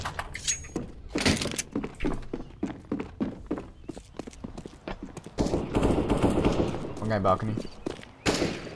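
Bursts of rifle fire crack out in a CS:GO competitive match, clustered rapid shots spaced among footsteps and game noise, with a player talking over the action.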